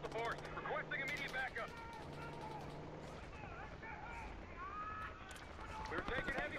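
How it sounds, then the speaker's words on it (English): Gunfire crackles in a Black Ops 6 desert battle near a helicopter, scattered sharp bursts mixed with radio-style voices and game noise, moderately loud under continuous talk. "We're taking heavy fire at the helo."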